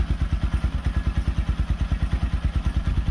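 A Forte CBA 250 enduro motorcycle with a 166FMM engine, freshly adjusted valves and a PZ30 carburetor, idles cold with a steady, even low thumping rhythm, close and loud, with no talk.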